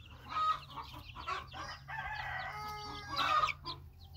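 Chickens and young roosters in a new outdoor run clucking with a rooster crowing, several close, loud calls overlapping in an irregular cackling chorus over a low hum.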